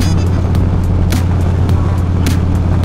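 Steady, loud engine and wind rumble from a motorcycle ridden along a road to the post office, continuous and close, with faint rhythmic ticks over the drone.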